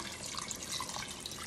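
Four cups of water poured into a pot of salmon sinigang, a tamarind soup, making a steady close splashing and trickling that fills the moment without speech.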